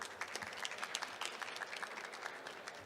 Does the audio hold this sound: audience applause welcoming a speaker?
yes